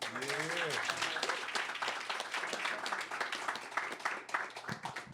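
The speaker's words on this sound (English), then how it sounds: "Round of applause for Robin Murphy." A crowd claps continuously, a dense patter of applause mixed with cheers and voices, starting with a rising whoop.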